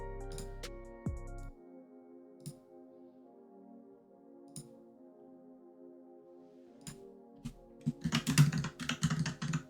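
Loud computer keyboard typing, sparse isolated clacks at first, then a rapid dense burst of keystrokes near the end, heard alone over a faint steady hum.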